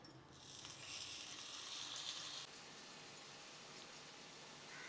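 Marinated mackerel fries in coconut oil, a faint, steady sizzle that holds evenly throughout and eases slightly partway through.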